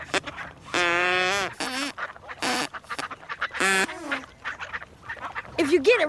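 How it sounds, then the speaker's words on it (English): Ducks quack back at a duck call made from a flattened, pointed drinking straw, with loud nasal quacks and reedy squawks in short bursts and pauses, close and clear, mixed with some voice-like calls. "If you get it right, the ducks will quack back."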